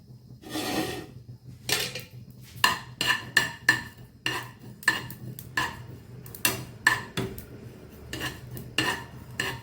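Cumin seeds are dry roasted in a pan for a pickle, stirred with a utensil that makes repeated rasping scrapes against the metal in a loose, uneven rhythm, close and moderately loud, with no talking.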